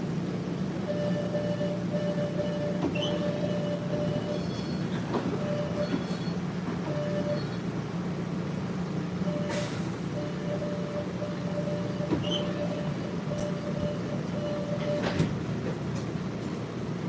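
MBTA Red Line subway car running between Boston stations, a steady loud rumble of wheels and motors with an intermittent high tone and occasional clacks throughout, no voices.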